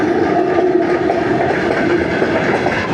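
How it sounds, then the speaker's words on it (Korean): A long train rumbles past on a railway near the Black Sea coast of Georgia, a steady close clickety-clack of wagons rolling by continuously with no pauses. "기차 지나간다."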